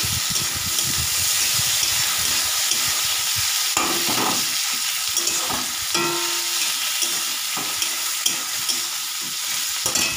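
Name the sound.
tomatoes added to frying onions in pan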